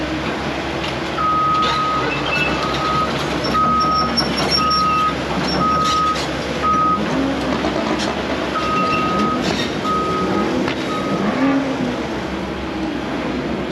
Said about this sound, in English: they're actually replacing the tanks here at this gas station